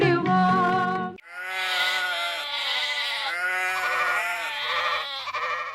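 Goats bleat in a long, loud, wavering cry, with a shorter call just before it, while cattle and goats are driven out to graze in hot sun.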